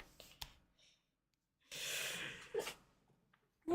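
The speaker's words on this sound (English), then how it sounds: "Are you sneezing?" A single sneeze bursts out indoors after a quiet pause, with soft breathing and faint movement around it.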